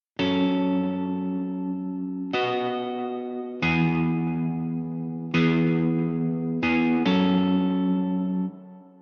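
Guitar chords ring out one at a time, six struck chords with long sustain, each decaying before the next, played close and clear.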